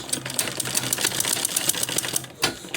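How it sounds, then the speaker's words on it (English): A sewing machine top stitching a shoulder bag runs in a fast, steady rattling chatter close by, with a brief pause and restart near the end. "So I'm now going to top stitch"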